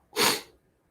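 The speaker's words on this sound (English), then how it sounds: "there's a sneeze" One short, breathy sneeze heard close and clear, a single burst lasting under half a second, with no talking around it.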